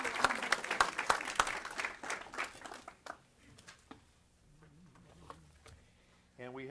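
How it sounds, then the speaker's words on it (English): Applause at a city council meeting honoring a girls' team, a burst of close, sharp clapping for about three seconds that fades into scattered claps and low murmuring, ending with a brief voice. "Give them another round of applause."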